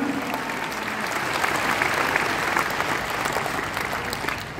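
A church congregation at a revival convention service fills the room with loud, sustained applause that holds steady throughout, dense and close, with no talk over it.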